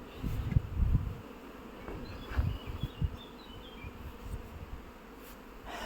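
A low, steady honeybee buzz hums throughout, with louder swells of buzzing coming and going close by over a quiet background.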